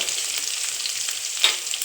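Onion and green chilli sizzle in hot oil with mustard seeds and curry leaves for a potato kurma, a close, steady frying hiss with a brief louder crackle near the end.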